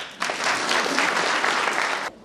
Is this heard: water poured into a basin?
no